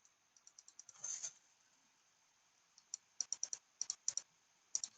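Small micro switch end stop on a Wanhao i3 Plus 3D printer clicking repeatedly, a run of light sharp ticks early on, then a burst of quick irregular clicks, close and fairly quiet with no talking.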